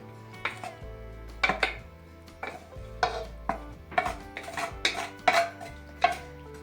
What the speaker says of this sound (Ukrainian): Я перемішаю разом з моркою, з цибулею і з перцем нашу капусту.